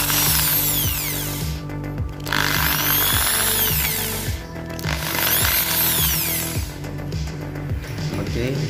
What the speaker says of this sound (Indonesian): Tripodnya saya bor.